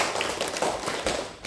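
Students in a classroom give a short burst of applause for a classmate, quick close claps filling the room with dense, uneven patter for a second and a half.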